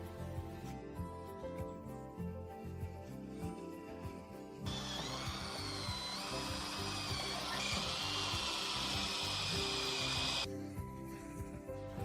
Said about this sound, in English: So we drill through the outer plate and the reinforced plate.